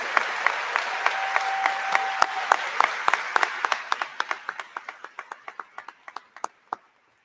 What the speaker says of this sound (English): one more round of applause recognizing Matthew Turner and our deep appreciation